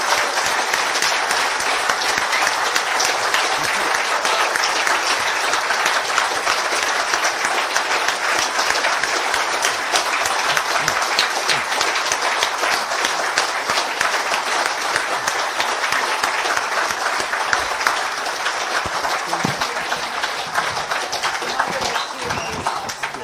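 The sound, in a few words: audience applause for the panel of distinguished guests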